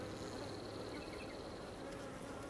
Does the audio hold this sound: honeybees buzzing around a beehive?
yes